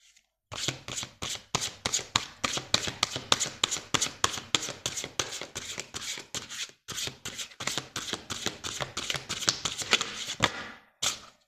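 Oracle cards shuffled by hand in a long run of rapid riffling bursts, close and crisp, with a brief pause midway and a final tap of the deck settling.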